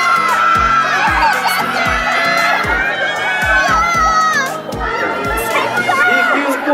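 A large crowd of students screams and shouts enthusiastically, cheering for actor Gong Myung in a loud, continuous roar of young voices with rhythmic low thumps underneath.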